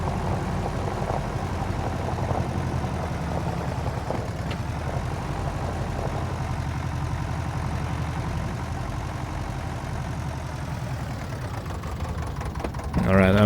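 A farm tractor idles with a steady, low knocking engine rumble close by, continuous and unchanging, and a voice speaks briefly over it.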